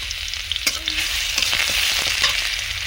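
Chopped garlic hits hot mustard oil in a wok-style pan, giving an intense, loud, continuous sizzle with a few sharp spattering pops and light stirring scrapes, close up and without speech.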